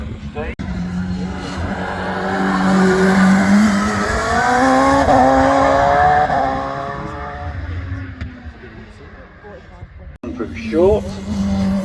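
Bishop Fury Spider race car with a 2.7 litre RPE engine at the Harewood hillclimb: a loud, near engine revs up through several rising gear pulls, then fades as it moves away, with another burst of revving at the end and commentary heard throughout.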